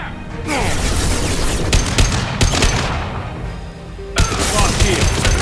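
Rapid bursts of gunfire in the Mass Effect 2 video game, loud and close, with sharp shots and crashing booms in a dense firefight broken by brief lulls and a voice faintly in the mix.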